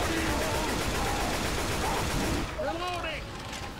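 Continuous heavy gunfire aimed at the Tank in Left 4 Dead 2, a dense rattling barrage over a loud rumbling din that drops slightly near the end.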